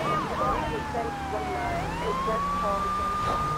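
A police car siren in GTA 3 wails with rising and falling sweeps over engine and traffic noise, loud and close throughout.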